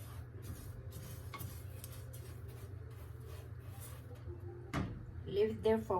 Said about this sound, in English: First, I have to fry this without oil, this rice. Slightly brown it.